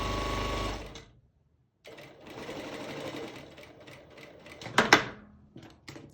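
A sewing machine stitches a dart in tulle fabric, running in a steady whirring burst at the start, stopping briefly, then resuming with softer mechanical clatter and a couple of sharper clicks near the end.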